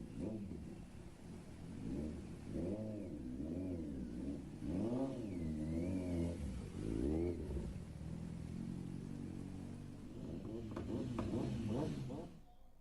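Racing motorcycle engines at a MotoGP event, a continuous loud rumbling roar that rises and falls as bikes rev and accelerate past, with no gaps.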